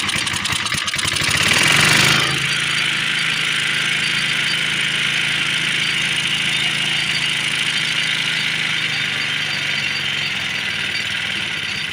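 A Briggs and Stratton engine on an old Power Kraft tiller, fitted with a pulse jet carburetor, catches after a pull start and then runs on choke at a steady, loud, rough idle, heard close and with no talk.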